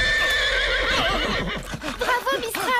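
A horse neighs loudly and close by in a long, shaky whinny that breaks into rapid pulsing calls.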